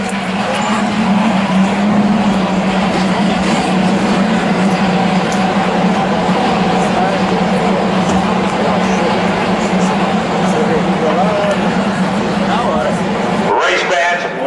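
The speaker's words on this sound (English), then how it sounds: "what a beautiful sound to hear all of those engines coming to life" Race car engines start up together as drivers are called to start them, a dense, steady roar of many motors droning loudly throughout and cutting out sharply near the end.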